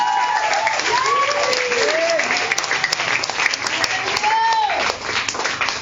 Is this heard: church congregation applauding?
yes